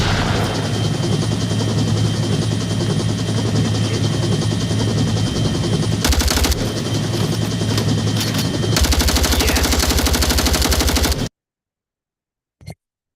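Sustained gunfire in Onward VR during a co-op evac mission, dense rapid automatic bursts rattling loud and close over a whirring helicopter drone, then cutting off abruptly into silence with one last faint thump.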